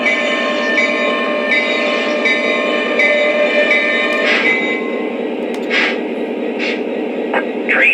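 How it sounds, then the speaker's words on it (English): A Lionel CSX SD40-2 model train locomotive runs with a loud, steady electronic diesel drone and humming tones, broken later by several short, bright bursts. "Train is at a complete stop."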